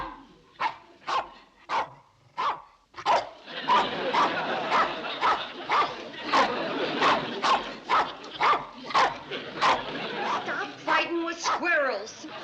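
Dog barking, a series of loud, sharp barks in an uneven rhythm, later mixed with yips and whimpers over busy background noise, close to the listener.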